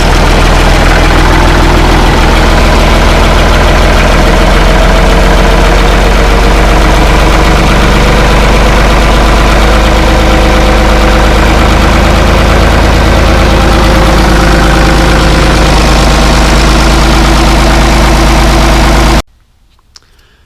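Ford 2810 tractor diesel engine idling steadily to warm up, a loud, continuous low rumble with a constant knocking pulse that holds for about nineteen seconds before cutting off abruptly, no talking.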